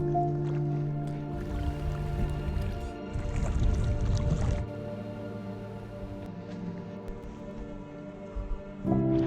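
A kayak is paddled on a Finnish lake in the Saimaa region, with close, wet paddle strokes, splashes and drips coming in uneven bursts over a low steady background.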